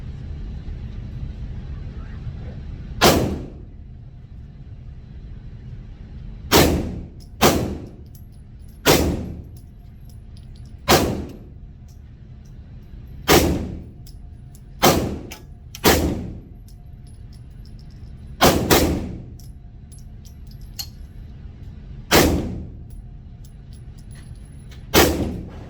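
Sharp gunshots crack out one at a time at an outdoor gun range, about a dozen irregularly spaced reports over a steady low background rumble, each loud with a quick decaying tail.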